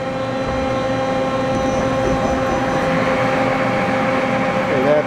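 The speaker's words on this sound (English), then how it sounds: "I'm just going to manually run the spindle here" A 1997 Daewoo Puma 18 CNC turning center runs its spindle manually in low gear, giving a steady, close mechanical hum with sustained tonal whine lines that hold level throughout and waver slightly near the end.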